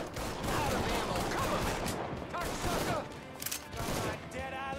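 Dense gunfire in the video game Mafia 3, rapid overlapping shots and bursts in a busy firefight, loud throughout with clustered cracks near the end.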